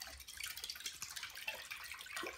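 A small toy waterwheel turns under a steady stream of water, giving a continuous bright splashing and trickling close by with faint dripping, no voices.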